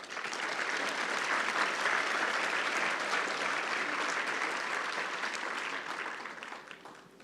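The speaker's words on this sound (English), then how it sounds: "Let's applaud our higher certificate graduates." Sustained applause from a graduation audience at Cornerstone Institute's autumn ceremony honours higher certificate graduates, a dense, loud wall of clapping that holds steady for several seconds before tapering off at the end.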